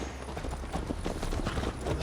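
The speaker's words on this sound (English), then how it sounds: "Mount up, Eivor. It's a long ride to Tamworth" A horse gallops in Assassin's Creed Valhalla, rapid rhythmic clip-clop hoofbeats close and steady over a dense rumbling game background.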